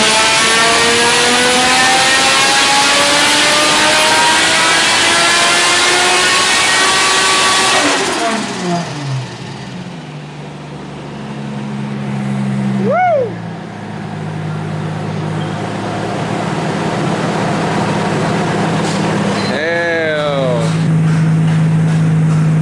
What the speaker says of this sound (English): We've also got a new feature on the exhaust to make it sound a little different.